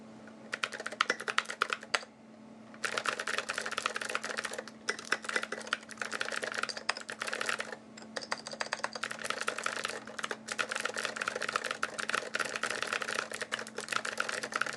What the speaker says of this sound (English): It definitely feels like I'm typing on a vintage board.